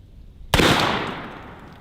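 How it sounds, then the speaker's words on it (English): An old Red Dead-style revolver fires a single loud, sharp shot at a watermelon, the blast cracking out suddenly and ringing down into a fading decay. "Let's see what this old Red Dead revolver can do to them."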